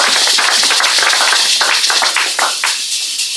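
Church congregation clapping together to acclaim Jesus, a loud, dense burst of many hands that thins out and fades toward the end.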